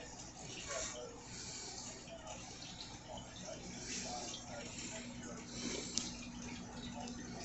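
Water runs steadily into a home reef aquarium during a water change, a continuous low wash and trickle with a faint bubbling texture and one brief clink near the end.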